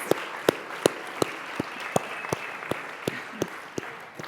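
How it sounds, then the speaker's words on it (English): An audience at the RISE 2025 Front Porch Follies performance applauds Matt. Sparse, steady claps sound at an even pace, a few hands beating roughly three times a second over quiet room tone. "let's give a round of applause for Matt"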